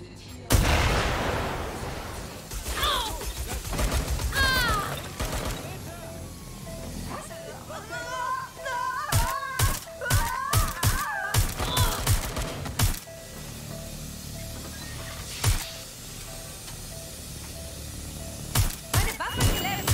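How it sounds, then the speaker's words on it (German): Gunfire in Watch Dogs: Legion as a player shoots at a target to destroy it: scattered loud shots build into a rapid cluster of cracks midway, over game ambience, with a voice talking at times. "Ah, zerstören. Drauf schießen."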